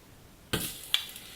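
Butter tipped into a pot on low heat lands with a soft thud and brief spatter, followed by a faint second tap and gentle crackle, quiet and close with no talking.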